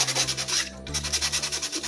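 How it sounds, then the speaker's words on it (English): Palm sander working over a 3D printed Robocop suit piece, a rapid rhythmic scratchy rubbing that pulses evenly, close and fairly loud, with a brief pause mid-way. "just to get those little pieces that the palm sander might have missed, the little divots"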